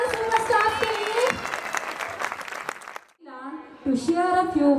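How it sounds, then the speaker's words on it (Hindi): Audience applause at a children's annual function for a play school and nursery, a dense crowd clapping under music and a voice for about three seconds, breaking off briefly before sound resumes. "एक बार जोरदार तालियां हो जाए हमारे सुपर स्टार्स के लिए"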